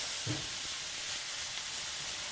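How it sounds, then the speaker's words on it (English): Beef strips sizzle steadily in a hot pan while being stirred for Philly cheesesteak, a constant, close frying hiss with a soft clink from the utensil near the start. "we want to put our beef in here, and we're going to just want to heat that up. We'll Okay. just stir that around"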